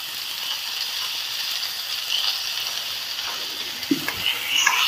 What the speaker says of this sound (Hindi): हाई फ्लेम पे ही 3 से 4 मिनट के लिए भून लेंगे